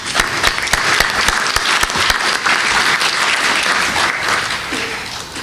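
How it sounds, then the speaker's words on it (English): Audience at an annual association meeting applauds, loud, dense clapping from many hands that stays steady throughout and eases slightly toward the end. "I'd like to give them a round of applause for their time and effort."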